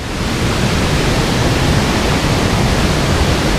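The Tiu Pitu waterfall roars as a dense, loud, unbroken wash of falling water, steady and close with no other sounds standing out.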